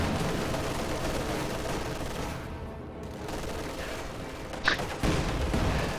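Sustained machine gun fire from LMG grenadier squads rattles through a strategy game battle, continuous bursts layered with distant booms and one sharper crack, moderately loud and unbroken.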